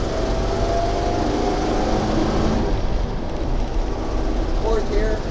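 A 1972 International Harvester Travelette crew cab 4x4 pickup engine pulls hard in third gear, a loud steady drone with road and wind noise close by.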